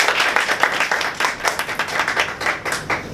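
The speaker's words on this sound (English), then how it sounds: "Please give her a round of applause." A Toastmasters club audience gives a round of applause, a brisk close-up clapping with distinct individual claps pulsing rhythmically throughout.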